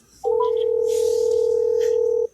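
A telephone line sounds as a call is placed: one loud, steady electronic tone holds for about two seconds and then cuts off, with no talk.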